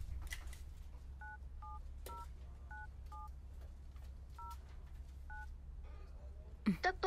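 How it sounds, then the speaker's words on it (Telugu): Mobile phone keypad dialing tones, a string of short electronic beeps at a steady rhythm over a low room hum, close and clear, ending with a brief rustle. "కాల్ చేద్దామా?"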